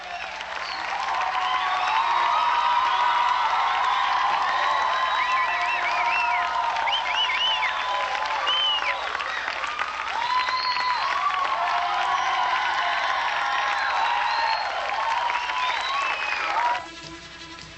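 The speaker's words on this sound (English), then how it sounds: "an enthusiastic crowd was on hand as Adam West and the Batmobile were reunited" An enthusiastic crowd at the reunion of Adam West and the Batmobile claps and cheers continuously, a dense wash of applause with shrill whistles and yells rising above it.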